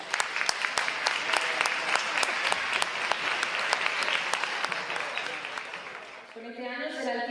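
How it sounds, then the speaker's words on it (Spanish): A crowd at a town hall sports gala in Jarandilla de la Vera claps steadily for a councillor, a dense, even round of applause that fades as a voice begins speaking near the end. "Un aplauso para ella."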